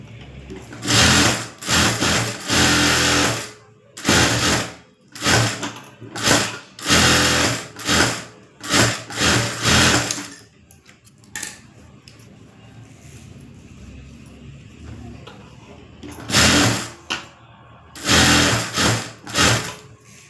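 A sewing machine stitches a hemming strip in a tailoring lesson, loud rapid bursts of stitching repeating in short runs separated by pauses, with a quieter stretch in the middle before two more bursts near the end.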